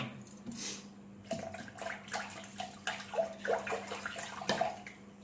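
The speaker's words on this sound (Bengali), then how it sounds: "3-4টা আইস কিউব দিয়ে দিলাম, আর সাথে ঠান্ডা জল।" Cold water with three or four ice cubes goes into a bowl for homemade mozzarella, a soft close splashing and trickling pour with small irregular sloshes throughout, no talk.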